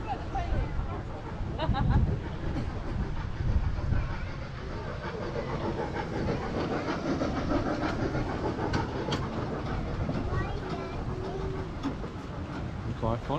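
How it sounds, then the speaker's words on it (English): A train rumbles past at Gunwharf Quays, Portsmouth, with steady clattering and rolling noise, and people talk over it throughout. "Oh look, here's the train."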